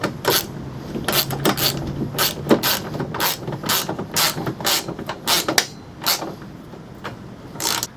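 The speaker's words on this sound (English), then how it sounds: "I'm going to go ahead and snug these up." Bolts being snugged down on nerf bar brackets of a 2020 Turbo RZR, a ratchet clicking in quick close-up bursts with short pauses between runs, sharp and metallic with no talking.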